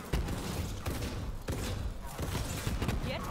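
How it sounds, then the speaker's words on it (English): Rapid bursts of Borderlands 3 gunfire and grenade explosions, dense and continuous, with repeated thuds punctuating a constant roar of combat. "Grenades and explosions everywhere."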